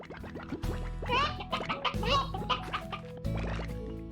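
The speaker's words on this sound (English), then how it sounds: "I've got my chickens." Chickens in the video game Slime Rancher cluck and squawk in quick, uneven bursts over a steady looping game music bed, moderately loud with no talking.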